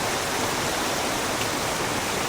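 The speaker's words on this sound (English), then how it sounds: "Literally just water coming out of the ground like that from an underground stream." Spring water gushes from an Arizona hillside where an underground stream emerges, a steady, close, broadband rush of flowing water with no talk.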